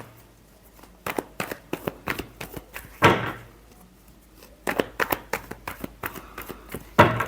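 Tarot cards being shuffled in a series of short papery riffles and flicks, close and moderately loud, with brief pauses between bursts and one sharper snap near the middle.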